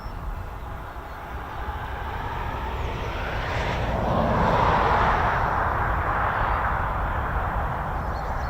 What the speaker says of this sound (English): our first F-35's coming up